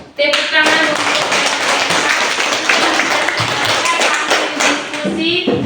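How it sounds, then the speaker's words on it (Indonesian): A group in a teachers' coaching session claps hard and steadily for a group discussion, sometimes in a rhythmic patter, while voices talk over it. "Tepuk tangan untuk"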